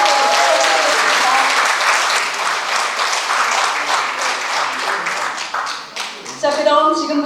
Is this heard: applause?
yes